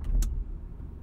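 A small service car's engine in Tourist Bus Simulator gives a low, steady idling rumble, with two short brighter clicks or revs at the start before settling into a quiet hum.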